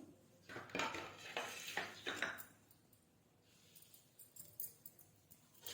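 Spices and turmeric mixed in a bowl for a homemade snack, a run of close, clinking scrapes of a spoon against the dish, then quieter scattered taps and rattles.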